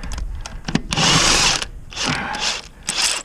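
A power tool loosens spline lug nuts from a car wheel in several loud whirring bursts with short pauses between, close up and with no talk.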